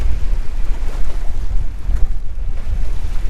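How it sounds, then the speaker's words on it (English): Strong wind at sea roars steadily across the microphone aboard a boat, a loud rumbling buffeting with water sloshing beneath, no voices. "I think we reached the peak of this wind event"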